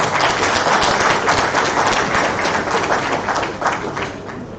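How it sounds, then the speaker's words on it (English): Audience applause for a faculty speaker at a medical conference, loud dense clapping from a large crowd that runs steadily throughout and eases slightly toward the end. "A round of applause for our faculty,"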